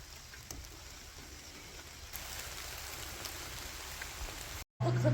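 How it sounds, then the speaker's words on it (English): Steady rain falls outdoors, a constant soft hiss with scattered drops that holds for about five seconds before a short dropout and a louder burst. "Over here filling up the old water bottle in the rain."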